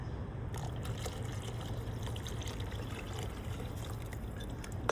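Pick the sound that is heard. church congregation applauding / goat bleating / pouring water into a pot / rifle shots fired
pouring water into a pot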